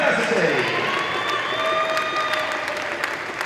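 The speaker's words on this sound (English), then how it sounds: "Give them a round of applause." A crowd applauds the Durham University men's volleyball team at a BUCS Big Wednesday final, steady loud clapping and cheering filling the hall throughout without a break.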